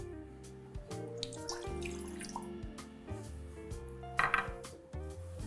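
Water from a tap runs into a saucepan for making coffee syrup, with faint trickling and dripping mixed with light clinks of metal cookware in a kitchen.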